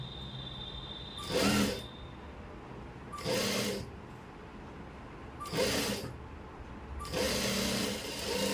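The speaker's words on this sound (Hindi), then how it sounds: "एक साइड से सिलाई लगा ली" A sewing machine stitches palazzo pant pieces together in four short, steady runs, each about half a second long, separated by quiet pauses. The machine sounds close and fairly soft, and nobody speaks.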